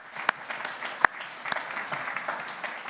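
Applause from the audience at a Nordic welfare forum for the speakers, a steady wash of clapping with a few sharper, louder claps standing out near the start, moderate in level throughout.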